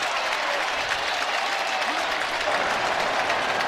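A stadium crowd roars and applauds at an American football game in Nashville, a loud, continuous wash of cheering that holds steady throughout.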